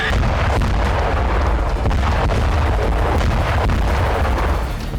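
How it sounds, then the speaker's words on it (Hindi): Loud, sustained bomb explosions in wartime Ukraine, roaring and rumbling, heavy blasts blending into a continuous thunderous din with no voices. "तभी धमाकों की आवाज से दहशत मच गई।"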